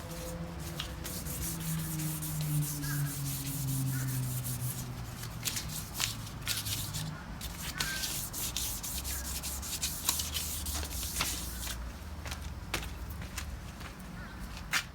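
Hand sanding a plastic car rear wing with 600 grit sandpaper, close rhythmic scratchy rubbing strokes repeating steadily over a low background hum.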